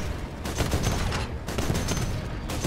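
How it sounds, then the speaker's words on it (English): A 40mm cannon in the video game Titanfall fires in a dense, loud burst of rapid explosive shots, continuous and close, with no voices over it. "Beauty with the 40mm cannon is it explodes"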